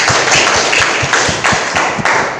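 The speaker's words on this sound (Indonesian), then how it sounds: "Silakan berikan tepuk tangan dulu anak-anak." Schoolchildren in a classroom at SMKS PGRI Gerokgak break into loud, dense applause that carries steadily through the whole stretch with faint rhythmic accents and no talking.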